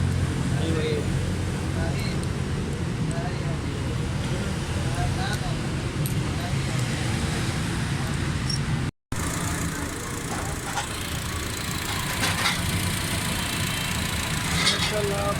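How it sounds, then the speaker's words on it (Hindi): A Honda City car engine runs at a steady idle after being started, following spark plug gap adjustment for a misfire and fuel fault, a constant close engine drone with a brief break midway and someone talking over it. "गाड़ी स्टार्ट है"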